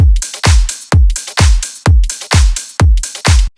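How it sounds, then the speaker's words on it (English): A steady slap house drum loop of booming kicks and claps, with a crisp hi-hat loop hissing in the gaps between hits, continuous and loud. "So next, we're going to add a hi-hat loop,"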